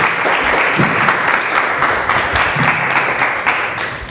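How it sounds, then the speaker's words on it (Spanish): Audience applause welcoming a speaker to a workshop on music and the brain, a dense, steady clapping from a crowd that holds throughout and tapers slightly at the end. "le damos la bienvenida con un gran aplauso"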